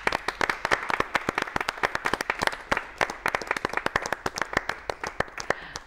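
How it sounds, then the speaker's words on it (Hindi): An audience claps loudly and energetically in honor of people who have quit tobacco, a dense burst of sharp hand claps, irregular and sustained, with no voices over it. "हम सब मिलकर के एक बार उन सब लोगों के लिए जोर से ताली बजाएं"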